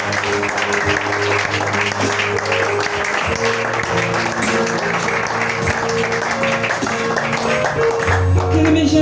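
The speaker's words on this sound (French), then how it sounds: "Acclamez Jésus" A church congregation claps and cheers for Jesus in sustained, loud applause that fills the whole stretch, with music and voices mixed underneath.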